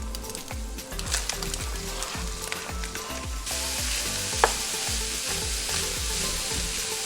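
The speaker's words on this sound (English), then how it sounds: "I'm gonna add in our chopped veg and saute it just for a short minute" Chopped vegetables sautéing in olive oil with browned meat in a pan for lasagna, a loud close sizzle and crackle with rhythmic stirring scrapes, brightening partway through.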